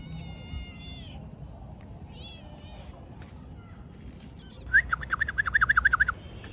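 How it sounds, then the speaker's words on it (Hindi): A small kitten gives a quick run of high, thin meows that sound close and clear. They come near the end, after a stretch of low room noise with faint chirps. "तो छोटू छोटू सी बिल्ली"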